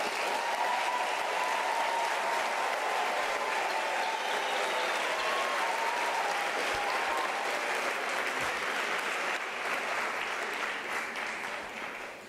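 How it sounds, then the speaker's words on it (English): Graduates at a university spring graduation ceremony receive a long, even round of applause from a large crowd, continuous clapping that holds steady and softens slightly at the end. "I believe the graduates deserve a thunderous round of applause"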